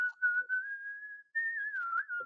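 A penny whistle plays a short tune of sustained, slightly wavering notes with a brief pause midway, clear and close.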